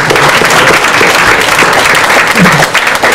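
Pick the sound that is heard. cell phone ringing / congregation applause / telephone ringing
congregation applause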